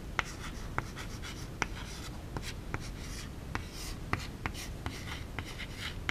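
A teacher writing on a board in a classroom, with chalk strokes and sharp taps repeating steadily over faint room hiss, fairly close and quiet, with no talk.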